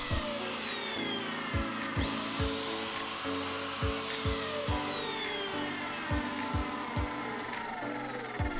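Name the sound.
mitre saw cutting timber to size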